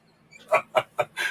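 A person imitates a bird call with four quick, clucking bursts in a steady rhythm, close and fairly loud, with no other talking.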